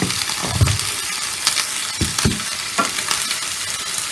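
Onions and tomatoes sautéed with salt in a pan sizzle steadily, with several sharp scraping and stirring strokes from a spatula breaking through the frying noise. No one speaks.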